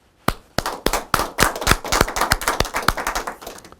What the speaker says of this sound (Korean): 우리 모두 참 어머님께 감사의 박수를 보내주시기 바랍니다.